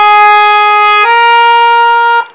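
A harmonium played in its high octave gives a thinner, brighter reed tone, one sustained note shifting to another partway, loud and close before it fades.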